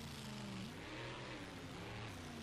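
A small motor on a Traxxas radio-controlled truck with a Ford Raptor body whines steadily, its pitch shifting up and down as it speeds and revs, heard close and continuous without any voices.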